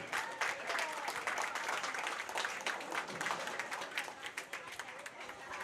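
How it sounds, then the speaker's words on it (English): Audience applause fills the hall after the CCIW women's bowling championship finals, dense steady clapping from a crowd that carries on without a break and tapers slightly near the end. "Let's give them a round of applause."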